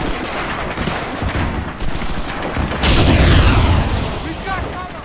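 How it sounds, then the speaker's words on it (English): An explosive charge blows open a fence on a D-Day beach in a World War II shooter game. A heavy boom bursts out partway through, over ongoing battle din and shouting voices. "Jones, let's blow this fence!"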